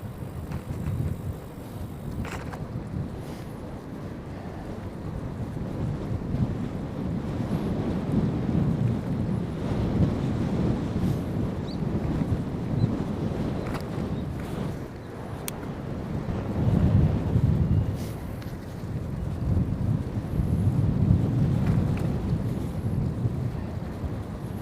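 Headwind buffets the microphone of a cyclist touring in South Korea, a heavy, roaring rumble of gusts that swells and eases without letup, close and loud, with no other sound breaking through.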